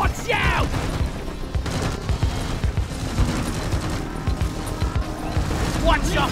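Sustained gunfire in the co-op mining shooter Deep Rock Galactic, rapid bursts and automatic rattling layered with clanks and blasts, while shouting voices cut in over the chaos.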